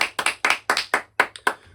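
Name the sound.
hand clapping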